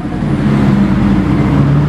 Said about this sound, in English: Here comes the SLS, dude.